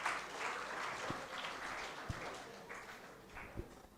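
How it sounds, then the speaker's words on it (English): Applause from an audience at a first-year B.Tech induction and orientation program, a soft, steady patter of clapping in a hall with a few sharper claps standing out. "I think round of applause for her making this last question."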